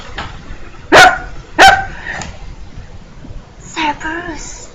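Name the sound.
Cerberus, three-headed guard dog of Hades, barking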